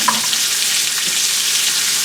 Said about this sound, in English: Now I left the burner on while he was doing that because I knew that I was going to have a hot pan for my onions.